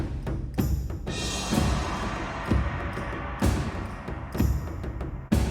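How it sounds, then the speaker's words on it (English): Booming taiko hits, one larger drum and a smaller one, drive an energetic game-music track for a Bedwars soundtrack, with snare strikes and crashing accents recurring roughly every second, dense, loud and without talk. "Then I added another taiko, a smaller one, to get a little more rhythm going."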